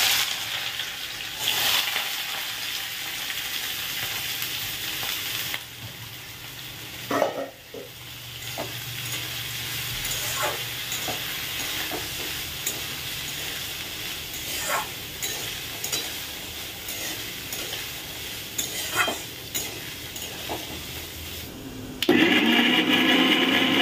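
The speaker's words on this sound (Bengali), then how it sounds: "চলো প্রথমে কাজু কিশমিশটাকে ভেজে নেব।" Cashews and raisins frying in a pan give a steady soft sizzle with occasional stirring clinks and scrapes, fairly quiet and close, with a louder burst of sizzling near the end and no talking.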